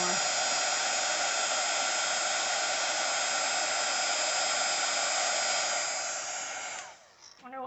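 A craft heat tool blows a loud, steady whirring hiss while melting embossing powder on a stamped card, running without a break for about seven seconds before it cuts off.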